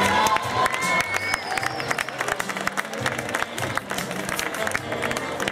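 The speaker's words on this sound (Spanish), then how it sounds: "Fuerte el aplauso" A crowd claps and cheers loudly at a school farewell ceremony, dense continuous applause with shouts and whoops rising over it, close and sustained throughout.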